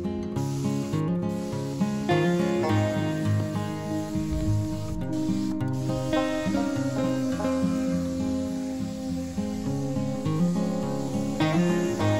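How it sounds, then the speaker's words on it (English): A spray gun hisses steadily as it applies a first coat of timber oil to a chainsaw-carved wooden owl outdoors in the snow. A continuous spray sound runs throughout, mixed with tonal background sound. "we're gonna use the spray gun to get the first layer of timber oil on our owl."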